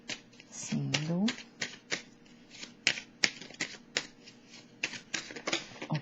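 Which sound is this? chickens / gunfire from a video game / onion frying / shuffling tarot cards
shuffling tarot cards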